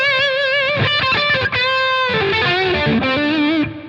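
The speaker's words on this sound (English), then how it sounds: "Delay's gone, tons of reverb" An electric guitar runs through a Line 6 Helix with heavy reverb and no delay, playing sustained distorted lead notes and a descending phrase, loud and close, with a washy tail ringing out at the end.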